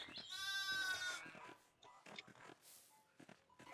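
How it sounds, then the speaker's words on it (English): Sheep bleat in the video game Pentiment, one long quavering bleat up close followed by fainter, shorter calls and soft shuffling. "I think the sheep are blocking my way."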